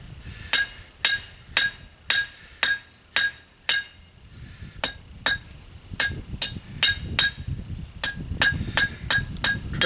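A hammer flattens a metal spoon blank on an anvil, giving over twenty sharp ringing metallic strikes: evenly spaced and well separated at first, then quicker and more clustered, loud and close with no talking.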